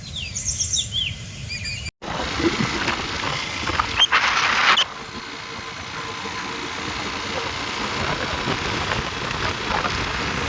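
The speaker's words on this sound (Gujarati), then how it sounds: "ઓછો થાય વરસાદ એવું લાગે" Steady rain falls with a continuous hiss and patter, briefly louder early on, with faint birdsong and a distant engine at the start.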